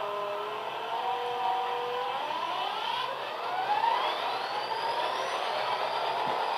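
An HO scale model locomotive's sound module starts up, its engine tone rising and sweeping upward in pitch like a diesel spooling up, steady and fairly loud with a faint background hum and no talking.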